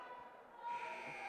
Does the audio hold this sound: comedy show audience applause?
no